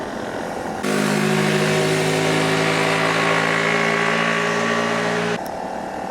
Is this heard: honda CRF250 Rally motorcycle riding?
yes